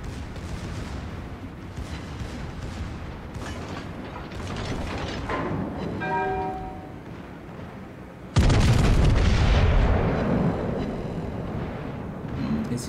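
Mechanical clanking and ratcheting, then a sudden loud, booming cannon blast that rumbles on for a couple of seconds: a battleship's main guns firing in World of Warships.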